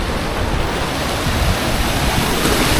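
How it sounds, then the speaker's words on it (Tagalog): Loud, continuous roar of strong surf close by at Casiguran, Aurora, broadband rushing water with a wash of wind across the whole stretch. "Malakas yung ng alon"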